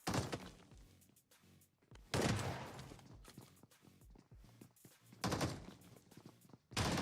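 Video game combat with shotgun fire and a grenade: loud, close bursts of gunfire and heavy thumping blasts come in several clusters, with rattling and crashing noise between them.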